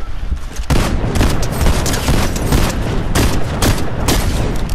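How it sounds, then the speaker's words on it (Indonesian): Loud, rapid gunfire rattles out in the Fortnite video game, dense bursts of shots following one another closely for several seconds. "Macam ni aku tembak."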